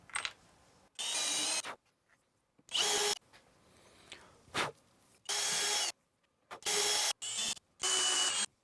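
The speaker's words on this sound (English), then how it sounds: "So let's go ahead and drill those out." A power drill whirs in repeated bursts while drilling holes in the top plate of a DIY solar generator, about seven runs of a second or less separated by short pauses, loud and close.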